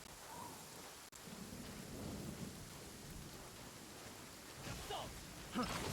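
Steady heavy rain falls throughout, with a low rolling rumble of thunder in the middle and some brighter splashes near the end, heard up close and fairly loud with no clear talking.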